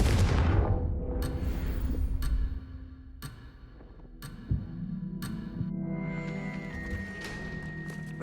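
A Confringo blasting spell is cast in Hogwarts Legacy: a loud booming burst at the start fades into a series of sharp cracking impacts and a reverberant thud, layered over a low game ambience.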